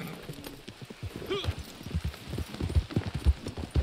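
Horse hooves clip-clop in Red Dead Online in a steady, quickening rhythm close by, following a brief whinny, with faint talk underneath.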